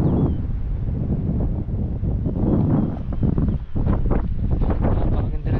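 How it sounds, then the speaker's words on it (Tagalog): Strong wind at a seaside viewing deck in Dingalan, Aurora, buffets the microphone with a constant loud low rumble and gusty swells, with no voices. "Napakalakas ng hangin."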